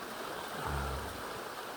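A clear mountain stream flows in a steady outdoor rush, with a brief low rumble passing partway through and no voices.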